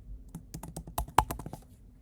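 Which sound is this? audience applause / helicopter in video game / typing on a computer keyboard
typing on a computer keyboard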